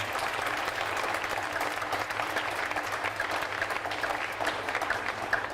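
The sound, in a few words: applause at state fair opening ceremony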